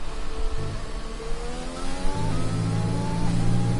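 An F1 2020 race car on a flying lap in the video game, its engine wailing loud and steady as the pitch climbs through the gears, with each upshift dropping the note before it rises again.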